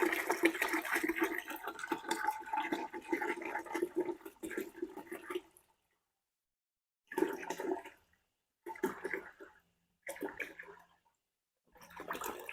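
Water is poured from a gallon jug into a container to mix a fertilizer solution for hydrangea cuttings, a steady splashing pour for about five seconds followed by several shorter bursts of pouring separated by pauses.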